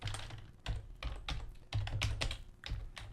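Rapid clicking of keys on a computer keyboard, close and uneven in rhythm, with bursts of strokes and short pauses, no voices.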